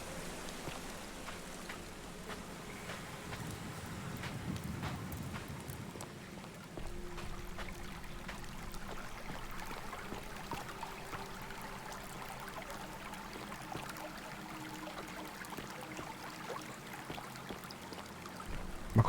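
Steady water flow in The Forgotten City game, a soft rain-like trickle and splash that runs continuously at low level throughout.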